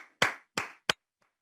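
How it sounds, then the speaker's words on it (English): Three separate hand claps, each a sharp burst with a short decay, spaced roughly a third of a second apart, close and fairly loud, then silence. "So I ask you now to put your hands together."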